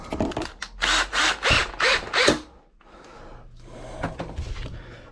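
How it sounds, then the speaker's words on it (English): Power drill spinning a homemade paint mixer made from a plastic clothes hanger at low speed, with several short close whirring bursts followed by a steadier, softer run. "Low speed. Look at that. One paint mixer made from a old coat"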